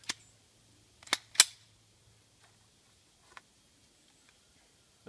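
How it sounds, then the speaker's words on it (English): A Taurus PT 92 pistol being unloaded: a few sharp metallic clicks and snaps up close, two in quick succession, then a fainter lone click after a pause, with near silence between. "Let me unload this so I don't shoot anybody."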